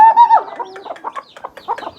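Chickens cluck close and loud in a quick, choppy series of short calls, beginning with a longer drawn-out squawk.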